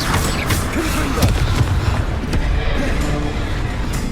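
Fiery Confringo spell blasts in Hogwarts Legacy, a dense, loud crackling roar with repeated booming bursts layered over continuous game noise throughout.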